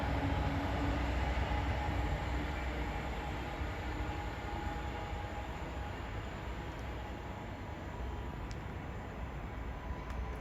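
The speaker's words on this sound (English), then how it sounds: "look at the crack of that front loco" A diesel locomotive hauls a train past Peterborough station on the East Coast Main Line, a loud, steady rumble and roar holding near-constant for the whole stretch with no voices.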